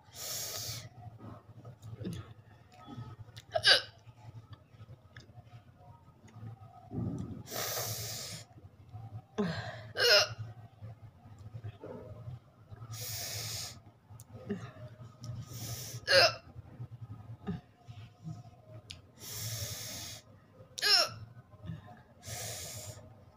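A woman hiccuping during a no-water hiccup challenge, a handful of sharp, breathy hiccups spaced several seconds apart among quiet breathing and brief talk.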